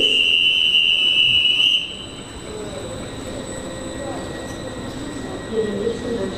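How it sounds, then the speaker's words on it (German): Train departing from a platform at Stuttgart main station: a loud high whistle-like squeal for the first two seconds, then a steady low rumble of rolling wagons with faint wheel squeals, with voices heard over it. "Vorsicht bei der Abfahrt des Zuges."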